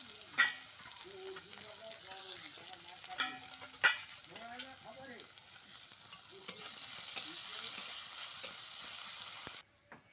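Ginger-garlic paste sizzles in hot oil in a pan while being stirred, with steady frying crackle and occasional scrapes and clinks of the spoon, close up with no talk.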